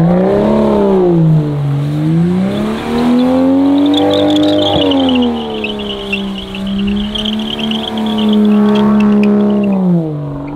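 A Toyota Supra's engine revs hard while drifting, its pitch climbing and falling in repeated sweeps, with a high tire squeal running through the middle. Loud and close with no talking.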